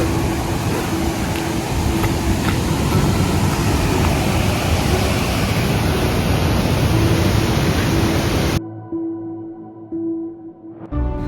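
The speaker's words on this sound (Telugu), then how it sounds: "వాటర్ ఫ్లో సౌండ్ మామూలుగా లేదు, భయంకరంగా ఉంది." A waterfall at Gayatri Waterfall in Telangana, heard from just above the falls: loud, dense, unbroken roar of rushing water that cuts off abruptly near the end, leaving quieter ambience.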